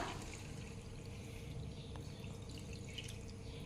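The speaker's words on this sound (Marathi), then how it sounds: "एक लोटा पाणी घातलेला आहे" A pot of water is poured into a simmering curry made from sour mango stones, producing a faint, continuous trickling splash. The sound stays low and even throughout, with no speech.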